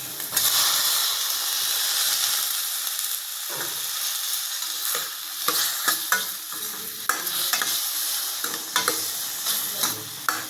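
Tomatoes and onions frying in a pan with coconut oil and ghee, a loud steady sizzle with repeated scraping stirs of a spoon against the pan, close up and with no voices.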